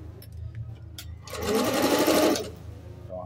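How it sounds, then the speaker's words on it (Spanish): A Singer La Negrita sewing machine stitches a zigzag seam in one close, steady burst of rapid whirring clatter lasting about a second, starting and stopping abruptly between quiet handling noises. "Vamos a verla en funcionamiento y a dejarla con la muestra de costura."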